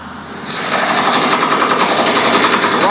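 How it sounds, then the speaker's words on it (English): Impact wrenches tightening connection bolts on a rigging truss inside a theater, a loud, rapid rattling hammer that starts after a short quieter moment and continues steadily close by. "they take impact wrenches and tighten up these connection bolts"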